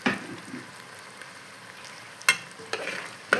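Chopped peppers fry in a pan with a soft continuous sizzle, broken by a few sharp scraping clacks as a utensil stirs and turns them.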